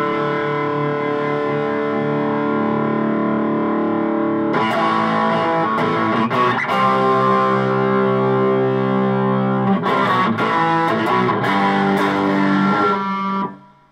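Electric guitar runs through a Marshall-style classic stack amp simulation, giving a continuous distorted, effects-laden tone of chords and riffs that keeps going for about fourteen seconds before stopping abruptly, with no one speaking.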